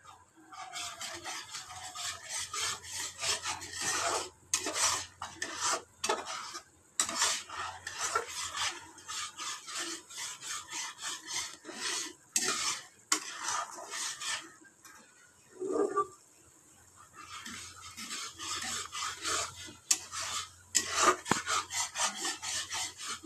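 Spice masala with salt and turmeric being stirred and fried in a pan for a lau and potato curry; a steady close scraping, rubbing rasp of the spoon against the pan runs throughout, broken by short pauses.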